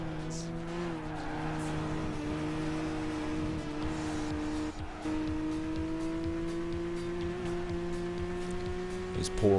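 Race cars drive in the video game Gran Turismo 5, a sustained engine drone that climbs steadily in pitch as the car accelerates, with faint tire noise, loud and continuous throughout.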